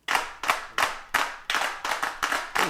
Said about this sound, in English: You decide how accurate they are, the pitch, how many people are clapping.